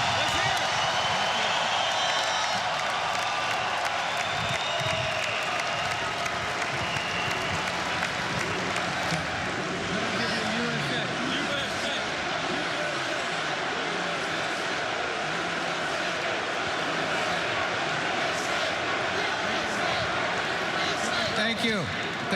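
A large crowd at the NFL Draft, heard as dense sustained cheering and applause that fills the whole stretch as one loud steady roar, with voices mixed in.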